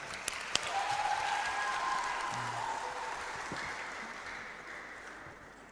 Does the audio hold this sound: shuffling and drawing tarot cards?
no